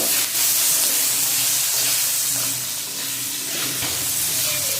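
Potatoes with a green chili fry lightly in oil with salt, giving a loud, continuous hissing sizzle close by, with faint stirring underneath and no voices.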